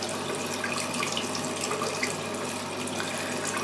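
Steady water pours from a tap into a sink for rinsing a face, a continuous close hiss and splash with no talking.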